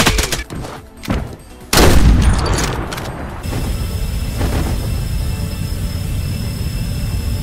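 Automatic fire from an M4 rifle in the shooter game Contractors Showdown comes as a loud, dense burst of shots. A heavy, sustained rumbling boom follows and fills the rest of the stretch.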